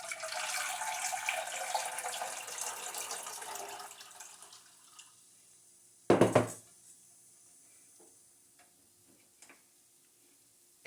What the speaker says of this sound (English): I'm gonna get some fresh water in there.